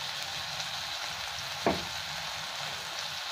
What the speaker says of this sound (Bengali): এবার সব একসাথে ভালো করে ভেজে নিচ্ছি।